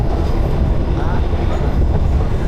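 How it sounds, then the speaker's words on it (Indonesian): A train leaving Pasar Senen station in Jakarta, bound for Semarang, gives a steady, loud low rumble with faint rail clatter, continuous and close. "Kereta perlahan meninggalkan hiruk-pikuk ibu kota melewati satu demi satu stasiun"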